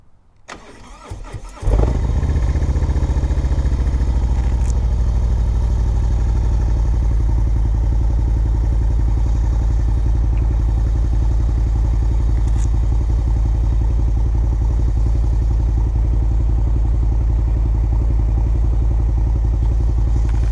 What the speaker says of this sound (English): Nice little cold start.